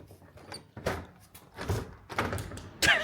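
A door is lifted and pulled open in a Warsaw apartment, giving several scraping, knocking bursts spread over a few seconds, with a sharper, louder clunk at the end.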